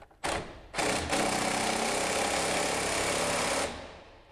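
A power tool tightens bolts on a garage door track, starting with two short bursts and then one sustained, loud, steady whirring run of about three seconds before cutting off, with no speech.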